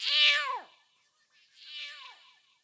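A human voice imitates two cats fighting on a roof ridge with two drawn-out yowling meows, the first louder, separated by a short pause.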